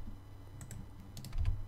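Mouse clicks and key taps at a computer while modelling in Blender, a few light, close clicks scattered through a quiet room with a soft low hum, no talking.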